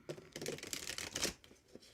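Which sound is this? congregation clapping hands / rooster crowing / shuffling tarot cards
shuffling tarot cards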